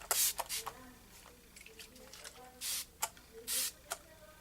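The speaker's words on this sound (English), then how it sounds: "I sprayed everything with Fix Plus from MAC." Several short bursts of MAC Fix Plus setting spray misted onto a made-up face, close hissing puffs in uneven rhythm with soft clicks and rustles between them.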